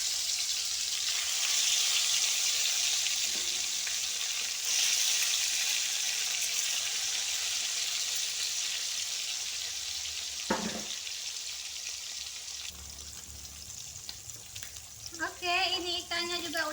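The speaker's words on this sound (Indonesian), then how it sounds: "lanjut lagi bunda goreng dulu untuk ikannya ya teman-teman, biar nanti minyaknya langsung kita tumis bumbu ya" Fish fries in hot oil in a home kitchen, a steady loud sizzle and crackle throughout, with a brief clatter midway and faint speech-like sounds toward the end.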